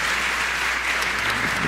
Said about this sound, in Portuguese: Aplauda ao Senhor bem forte, o mais forte que você puder.